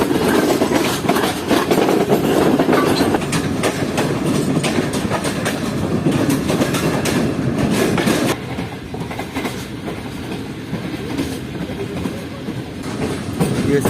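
The Karachi Express rolls into Rohri Junction station with loud clattering wheels and rumbling carriages, then eases to a quieter, steadier roll as it slows, with faint voices in the background.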